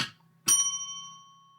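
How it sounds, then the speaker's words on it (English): Single bell struck once, ringing out clear and bright with a long sustained decay, preceded by a brief soft rustle, ritual bell rung to align with spirits during a tarot-style blessing. "listening to the sound of this bell"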